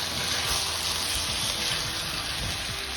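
Water poured into a pan of Bengali potato curry, alur dum, giving a loud, continuous, close hiss and sizzle of liquid hitting the hot spiced oil, no talk.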